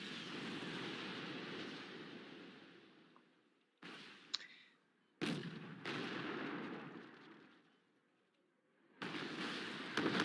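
Anti-tank missile fire and other battle noise from the war strategy game Wargame: Red Dragon make a faint, rushing broadband roar that swells and fades in several separate waves, with sharp cuts between them.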